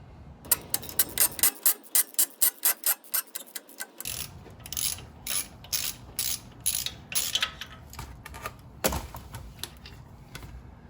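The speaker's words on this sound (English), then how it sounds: "I actually found a combination of wrenches that got the nut and bolt off on the forward side of this" Wrenches ratchet and clack while loosening a nut and bolt on a 1997 Jeep TJ front shock mount. Close metallic clicking comes in quick rhythmic runs, then irregular bursts.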